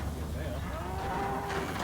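Cattle on a farm, cows and their calves being separated, give a long drawn-out moo over a constant low rumble of background noise.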